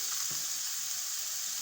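Chicken frying in a pan, giving a steady, dense sizzle that holds evenly throughout, close and fairly loud, with no voices.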